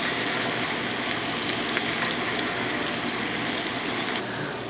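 Steaks fry in butter in a 12-inch Yeti cast iron skillet, a steady close sizzle and crackle with no talking that drops suddenly quieter near the end.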